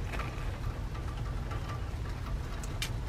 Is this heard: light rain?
yes